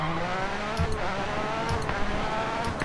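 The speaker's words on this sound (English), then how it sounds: "Oh, listen to that engine" A rally car engine in the video game Dirt Rally revs hard, with rising and falling roars and brief gear-change dips over fast driving, loud and close throughout.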